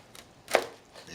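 A single sharp knife cut through a cabbage leaf on a cutting board, with a faint tap just before and a soft one after.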